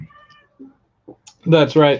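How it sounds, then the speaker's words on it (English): A pet cat meows indoors, giving two short, clear meows close by near the end after a few faint small sounds. Someone briefly speaks. "If you guys didn't hear that, that was my cat."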